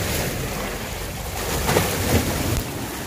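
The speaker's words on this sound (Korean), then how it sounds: "지금이 만조라서 파도가 튈 수도 있겠네요." Sea waves surge and splash against shoreline rocks at high tide on an island fishing spot, a continuous close wash of surf and wind with a swelling splash near the middle.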